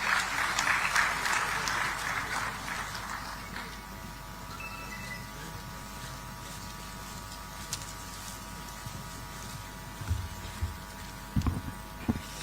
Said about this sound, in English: Let us all welcome her with an enthusiastic round of applause.